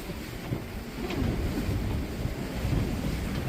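A sailboat under a double-reefed headsail and staysail drives through rough sea at speed, with a continuous rushing wash of waves and wind buffeting, fairly faint and broadband.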